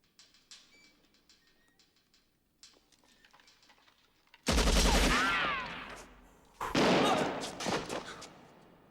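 Gunfire from a James Bond GoldenEye film scene: faint ticking and clicks give way to two loud, sustained bursts of rapid shots, the second following a brief pause.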